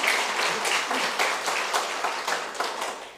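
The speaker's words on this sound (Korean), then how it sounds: "우리 박수로 격려하겠습니다." A church congregation applauds during a Sunday worship service, a steady wash of clapping with regular rhythmic swells that stays moderately loud for about three seconds.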